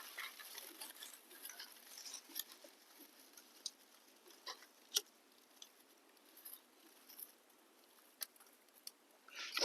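Light rain falls in sparse, irregular drops, each a faint separate tick or tap against a quiet background, with a slightly louder patter at the very end.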